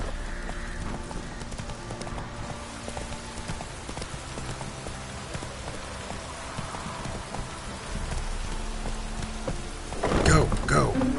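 Horse hooves clip-clop at a steady galloping rhythm in a PS4 video game, heard alongside a rain-like wash and other game sounds, growing louder and busier near the end.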